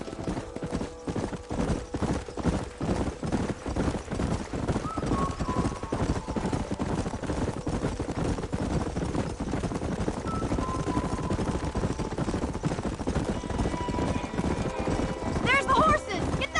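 Several horses gallop in Red Dead Redemption in a steady, pounding rhythm, the hooves loud and close, with a brief whinny near the end.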